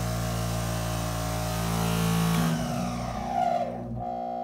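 A bench grinder bought at an estate sale hums steadily at full speed, then is switched off and winds down as its brake slows the motor, the pitch sliding down to a stop.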